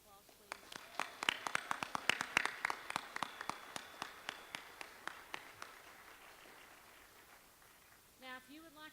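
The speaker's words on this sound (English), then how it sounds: "Can we give all of our heroes another round of applause, please?" Applause from an audience at a live community Celebration of Heroes event in Abingdon, Virginia, a burst of scattered hand claps that thins out over several seconds, with a short voice entering near the end.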